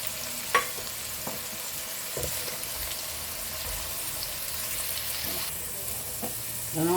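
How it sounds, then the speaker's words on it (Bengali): Green peas fry in a mix of ghee and oil in a pan, giving a steady close sizzle throughout, broken by a few light clicks and scrapes of stirring. "কড়াইশুঁটিগুলো দিয়ে দিলাম।"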